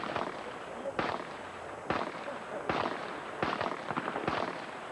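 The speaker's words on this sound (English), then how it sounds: "35 yards and 9 seconds to shoot 6 rounds" Pistol shots ring out at the barricade event of a Bianchi Cup shooting match, six sharp, distant cracks spaced roughly a second apart over a steady background rumble.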